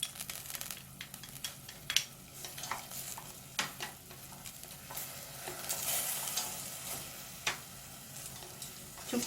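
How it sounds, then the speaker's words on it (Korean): Garlic frying in a pot over medium heat for seaweed soup, a soft continuous sizzle broken by scattered clicks and scrapes of stirring, fairly quiet and close. "마늘 1큰술 넣습니다"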